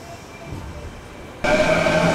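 Low rumble inside a Kintetsu commuter train bound for Nara during morning rush, a steady muffled drone that suddenly grows louder and brighter partway through, with a faint tonal whine.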